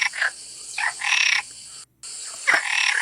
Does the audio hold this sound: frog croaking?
yes